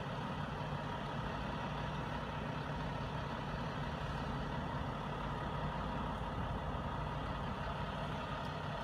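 A parked truck idles with a steady, low diesel rumble and constant mechanical hum, unchanging in level throughout and heard alone without voices.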